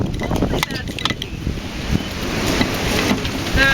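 Strong wind outdoors buffeting the microphone, a continuous rushing roar with gusts that swell toward the end, no speech over it.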